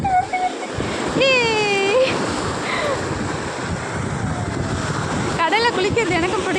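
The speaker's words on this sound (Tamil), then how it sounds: "கடல் அலை வேகமாக வருது வருது வருது வருது வருது வருது" Sea waves rush onto a beach in a loud, steady roar with wind buffeting the microphone, while voices and children's shouts rise over the surf.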